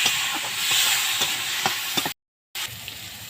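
Drumstick flowers seasoned with salt and turmeric fry in a pan with a steady close sizzle and hiss, broken by a few soft stirring clinks, then a brief cut to silence before the frying resumes.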